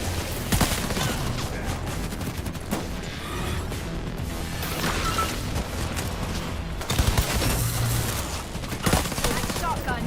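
Shotgun blasts in the horror game Evil v Evil, several loud sharp bursts spread across a busy stretch of gunfire and mechanical clatter, with a voice talking over them.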